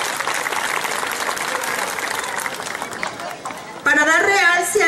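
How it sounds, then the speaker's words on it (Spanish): Loud crowd applause for a priest at a religious festival presentation, continuous and full for nearly four seconds before a voice breaks in over the tail end. "Fuerte aplauso para nuestro Padre Chepe."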